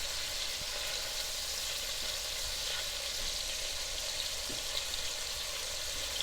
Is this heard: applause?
no